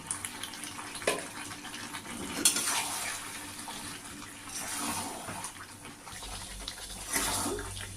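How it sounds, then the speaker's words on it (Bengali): Chicken meat with tomato and a whole garlic clove is stirred slowly in a pot over medium heat. A soft, steady sizzle runs throughout, broken by a few scraping and clinking strokes from the spoon. "এইভাবে আস্তে আস্তে আমি নাড়তে থাকবো মিডিয়াম আছে মাংসটা কষতে থাকবে"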